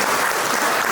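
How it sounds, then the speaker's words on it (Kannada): An audience claps loudly and steadily at a public cultural event, a dense wash of applause that fills the moment without a break. "ಅವರಿಗೊಂದು ಜೋರಾದ ಚಪ್ಪಾಳೆ ಕೊಡಬೇಕು"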